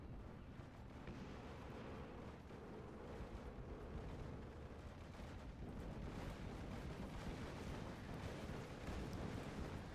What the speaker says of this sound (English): Good artillery from the 25 pounders.